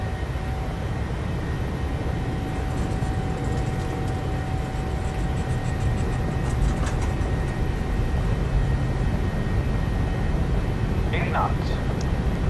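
A PMDG 737 spooling up for takeoff in Microsoft Flight Simulator 2020: a steady, loud, broadband engine roar that holds throughout, with faint clicks and a brief tone near the end.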